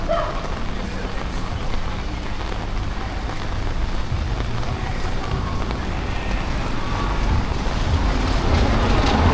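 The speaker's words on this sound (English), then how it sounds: "It's a rainy afternoon." Heavy rain falls on Harbour Street in Montego Bay, Jamaica, on a rainy afternoon near Pier One. A steady, dense hiss continues throughout, with low rumble and wind buffeting.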